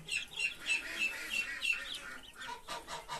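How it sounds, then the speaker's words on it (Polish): American Muscovy ducks calling in a series of short, repeated, fairly close calls in a steady rhythm, with no talking. "To jest kaczka piżmowa amerykańska"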